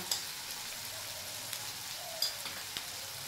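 Ground fennel paste goes into onions frying in a pan, raising a soft, steady sizzle with a few faint clicks and pops, quiet and close, with no talk.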